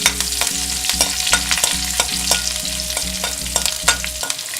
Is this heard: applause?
no